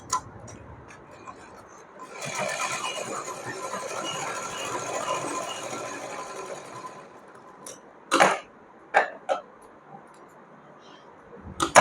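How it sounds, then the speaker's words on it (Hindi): A sewing machine stitches fabric strips for a small Laddu Gopal poshak, a soft rapid mechanical whir lasting several seconds mid-clip, fairly close, followed by a few clicks and handling knocks. "इन दोनों पट्टियों को दबाते हुए हम यहाँ पर सिलाई लगाएंगे"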